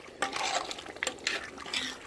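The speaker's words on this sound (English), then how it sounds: "we've added our 2 pounds of pasta. I'm going to stir them in nicely here." Two pounds of pasta being stirred into a pot of boiling water for Cajun pastalaya: bursts of scraping, sloshing stirring strokes with faint clinks of the spoon against the pot, close and moderately quiet.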